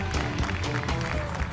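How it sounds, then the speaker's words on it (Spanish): Studio audience applause on a Spanish-language television talent show, a short burst of clapping mixed with music and background bustle, moderately loud throughout. "Vamos, fuerte arriba. El aplauso."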